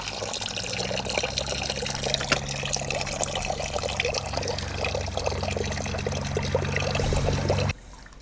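Coolant drains in a steady stream from a Kawasaki Z900 motorcycle, a continuous close pouring and splashing that runs unbroken for several seconds before cutting off abruptly near the end.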